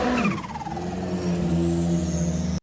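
A Ferrari P80C, the track-only car built on the 488 GT3, passes close by with a loud engine, its pitch sliding down and then holding a steady high whine until it cuts off abruptly.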